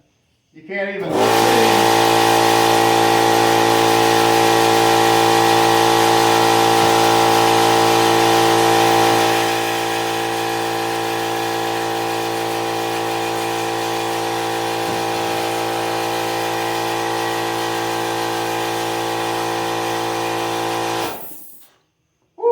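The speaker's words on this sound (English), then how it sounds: "that compressor gets loud" An air compressor in a woodworking shop where bookcase cabinets are being built runs loudly and steadily for about twenty seconds with a strong tonal hum, easing slightly partway through, then cuts off.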